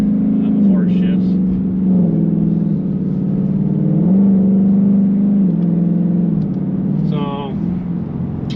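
A Ford Mustang GT with a 10-speed transmission runs in sport mode, its engine droning steadily from inside the car with slow rises and dips in pitch as revs are held, and a brief voice near the end.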